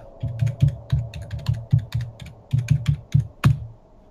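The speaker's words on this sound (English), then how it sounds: "So yeah, I just start typing that in." Keys clack on a computer keyboard in quick, uneven bursts of close, crisp taps with short pauses between, ending on one harder keystroke, with no voices.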